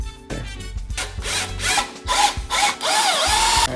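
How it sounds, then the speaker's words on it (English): Power drill with a 3/16 drill bit boring rivet holes in a DIY heat shield, several short loud whining bursts that rise and fall in pitch, separated by brief pauses, close by. "now that we have our first holes drilled"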